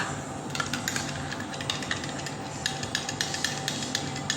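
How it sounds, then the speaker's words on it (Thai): A metal teaspoon stirs collagen powder into a drink, clinking rhythmically against the glass in quick, regular taps, quiet and close, with no talking. "ใส่ไปแล้วคนอ่ะ ดูสิ แบบนี้"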